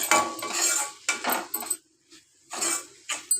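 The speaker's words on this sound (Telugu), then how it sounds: "మొత్తం కారం, పసుపు, ఆనియన్కి అంతా కలిసేదాకా కలుపుకోవాలి." A utensil scraping and clinking in a pan as onions are stirred with chili powder and turmeric, in short bursts with brief pauses between strokes.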